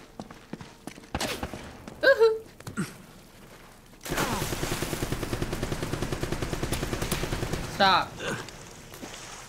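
Gunfire in the video game Uncharted: Drake's Fortune: scattered single shots early, then a sustained stretch of rapid automatic fire for several seconds, with game voices and effects mixed in.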